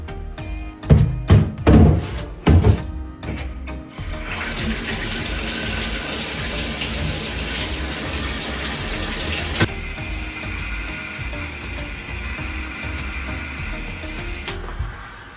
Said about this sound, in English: if I can fill this with a little bit of water, then I can dump it in